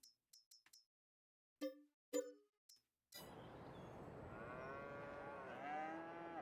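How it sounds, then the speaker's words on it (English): Cattle mooing in the farming video game Farming Simulator 22, a bull, cows and calves placed in a pen: several short separate moos early on, then a dense, continuous chorus of overlapping moos and calls. "so now we got some cows in here"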